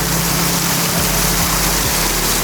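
A natural waterfall in the remote interior of Aceh rushes in a loud, constant broadband roar, close and unbroken throughout with no voices.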